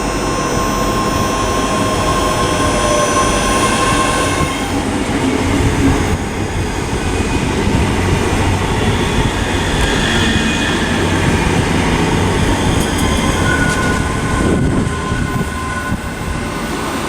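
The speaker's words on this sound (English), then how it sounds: "we've got a 385 arriving with a ScotRail service from Glasgow Central to Edinburgh" A ScotRail class 385 electric unit on a Glasgow Central to Edinburgh service pulls into Haymarket station, a loud continuous rumble and hum with brake and motor whine filling the whole span.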